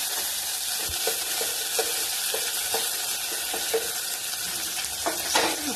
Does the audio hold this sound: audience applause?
no